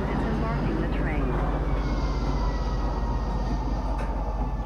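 A train pulling into a spaceport in Star Citizen, the video game: a loud, continuous rumbling roll with a faint metallic squeal and a tone shift partway through.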